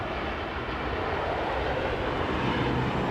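Airbus Neo airliner with LEAP engines deploying thrust reversers at London Heathrow, a dense broadband roar heard from a distance, steady and unbroken across the whole stretch with no voices.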